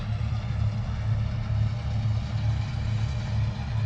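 A Bizon combine harvester works in a harvest field, its engine giving a steady, continuous low drone with a faint rattle of the cutter bar, moderately distant and unbroken throughout.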